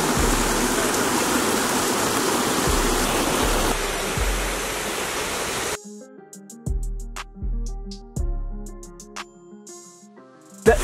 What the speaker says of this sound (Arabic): مبين الشلال